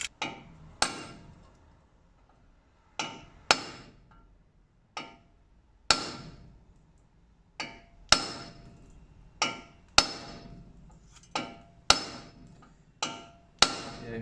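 Hammer blows tapping off a Land Rover Discovery 2 hub carrier, sharp metallic strikes arriving singly and in pairs at uneven intervals, close and ringing briefly after each hit.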